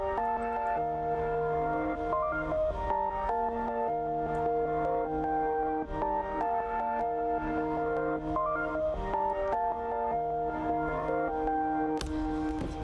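Melodic synth pad in FL Studio run through the Shaperbox 2 yo-yo preset by Global, playing a rhythmic chord sequence with pulsing, gated notes and a low bass line, steady and alone for several bars.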